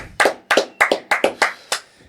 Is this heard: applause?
yes